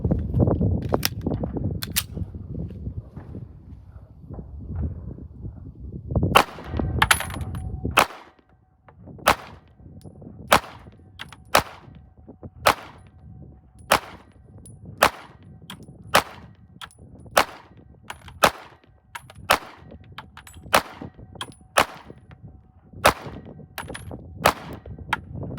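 A SIG Sauer P226 X Legion Carry pistol fires Hornady 115 grain XTP hollow point rounds at a shooting range. After a rough, noisy start, a steady run of more than a dozen loud, sharp, evenly spaced shots rings out.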